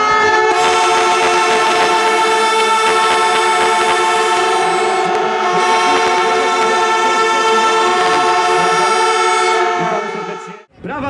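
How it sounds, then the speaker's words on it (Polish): A crowd at a ski jumping World Cup event in Zakopane blows horns or trumpets, a loud sustained blaring chorus that holds for about ten seconds before cutting off abruptly. "Prawa strona trąbi, lewa krzyczy Adam i później na zmianę"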